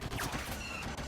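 In Star Wars Battlefront, an AT-ST walker's laser cannon fires a dense, loud burst of rapid shots that lasts about a second, with no pauses between blasts.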